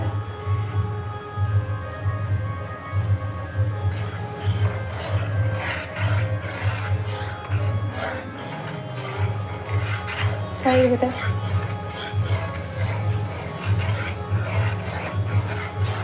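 Flour dry-roasting in a pan until reddish, stirred continuously with a steady rhythmic scraping and rubbing close by, while someone talks over it throughout.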